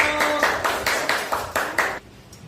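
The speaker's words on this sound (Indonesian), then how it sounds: "Tepuk tangan buat kelompok katak." A few students in a classroom clap together in short rhythmic bursts, about eight quick rounds, then it stops abruptly near the end.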